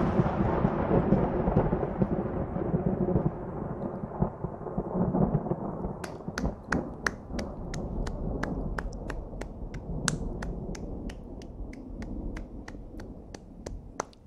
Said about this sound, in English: Those are my hands clapping